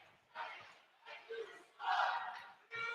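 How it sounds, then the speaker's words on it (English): Hockey fans in an arena at an Idaho Steelheads versus Utah Grizzlies game chant in rhythmic, distant bursts, a modest crowd's voices rising and falling in repeated phrases. "You can hear the chants pretty well tonight"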